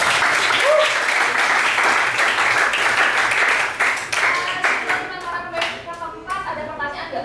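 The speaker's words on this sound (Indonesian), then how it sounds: "Tepuk tangan dulu deh ya." A classroom of students applauds during a mathematics lesson: dense, steady clapping that thins out and fades toward the end, with scattered claps trailing off.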